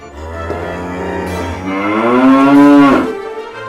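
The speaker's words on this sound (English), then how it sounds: "It sounds like a cow." Cow mooing in a single long, loud, close call that rises and swells in the second half before breaking off, heard alone with no other voices.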